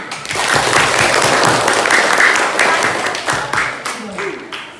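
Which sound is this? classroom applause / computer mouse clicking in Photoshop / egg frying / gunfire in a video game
classroom applause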